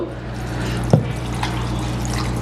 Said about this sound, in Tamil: இந்த தண்ணியும் இதில் விடுங்கோ